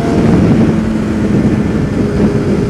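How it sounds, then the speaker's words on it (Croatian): A motorcycle engine runs loud and steady while the bike rides the road between Zaječar and Belgrade, a constant close drone mixed with rushing wind buffeting the microphone. "Znam je motor dosta bučan"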